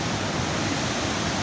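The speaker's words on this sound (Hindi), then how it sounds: "पानी का बहाव देखें, पानी की आवाज़ कैसी है, इतनी शदीद आवाज़ ऊपर तक आवाज़ आती है" Rushing river water pouring through Taunsa Barrage in Punjab, Pakistan, a loud, dense, unbroken roar with no other sounds standing out.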